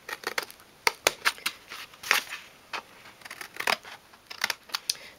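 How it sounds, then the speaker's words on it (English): Scissors snip through foam-backed card pieces in quick, close, crisp cuts with short pauses between bursts. "The foam has now dried to the card, so I'm going to cut these pieces out."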